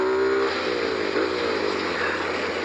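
A Rusi Flash 150 motorcycle engine runs steadily at close range, a continuous mid-pitched hum with a slight rise in revs partway through, no voices.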